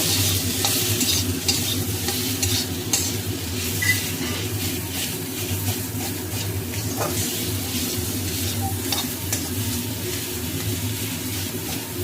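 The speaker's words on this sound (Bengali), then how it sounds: "এখন এটাকে ভাজা করব।" Boiled potatoes fry with turmeric, cumin and chili powder for a plain aloo tarkari, giving a continuous close sizzle broken by repeated stirring and scraping in the pan.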